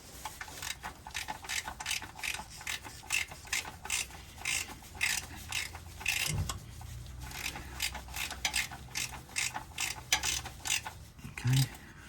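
Oil drain plug on a Lotus Evora being tightened with a ratchet wrench: a long run of rapid, crisp metallic ratchet clicks in quick bursts, close and fairly quiet, with a couple of low clunks partway through.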